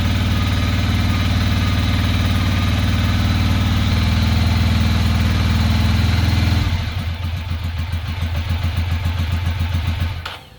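A 2006 Ducati Monster S2R 800 runs for the first time in years, with the front cylinder not firing, idling loud and steady nearby before the note drops into a rougher, pulsing chug and then cuts off.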